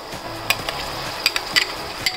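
Onion, tomato, ginger and green chili masala frying in oil, a steady close sizzle broken by several sharp scraping stirs at an uneven pace.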